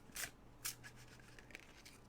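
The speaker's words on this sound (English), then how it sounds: "we're going to cut shuffle 3 times" Tarot cards cut and shuffled by hand in a quiet room, giving a few soft riffling swishes and taps, the two strongest near the start, close and fairly faint.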